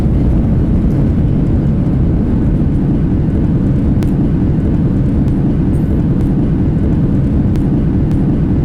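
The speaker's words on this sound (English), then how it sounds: "Reverse thrust." Cessna Citation X jet engines in reverse thrust in the X-Plane flight simulator, a loud, steady, continuous roar that stays constant throughout.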